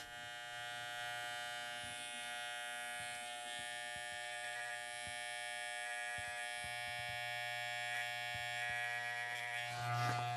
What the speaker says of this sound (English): we're going to go back over it with the razor too as well to sharpen it up